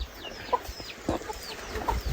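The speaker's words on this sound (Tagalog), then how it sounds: "May mga alaga siyang mga manok." Free-range chickens kept at a rural forest home cluck in short, scattered bursts nearby, with faint bird chirps in the background.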